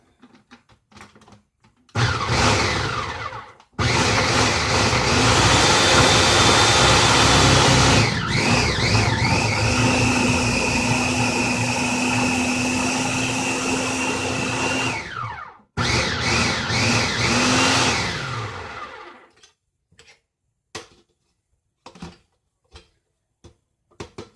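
A worn, poorly working food processor runs in loud, close bursts with a harsh whirring motor, stopping briefly between runs, followed by a few clicks and clunks as it is handled.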